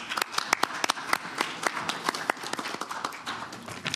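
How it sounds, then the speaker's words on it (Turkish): Audience applause for the president of Anagold Erzincanspor at the Ziraat Turkish Cup round-of-16 draw ceremony, a dense, steady burst of many hands clapping with sharp individual claps standing out, loud and continuous throughout. "Alkışlayalım mı?"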